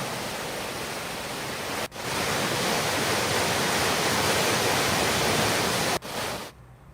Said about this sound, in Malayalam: കോൺക്രീറ്റിന് വേണ്ടി കെട്ടിയ കമ്പുകളോട് ചേർന്നാണ് ഇപ്പോൾ വെള്ളം ഒഴുകുന്നത്.